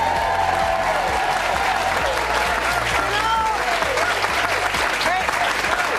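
A studio talk-show audience applauds as the guest, Ben Falcone, is welcomed: loud, dense, continuous clapping with cheers and whoops, sustained throughout.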